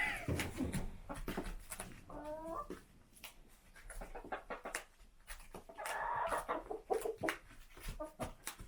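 Farm chickens clucking and squawking close by as they peck at toast, a busy run of short calls and pecking clatter with occasional louder squawks.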